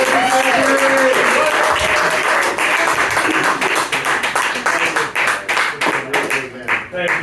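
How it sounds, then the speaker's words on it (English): Applause and clapping from a Grand Ole Opry audience, a dense wash of hands that thins toward the end into distinct claps, with a voice and some musical tones audible over it. "Clap it up for Mike, you guys."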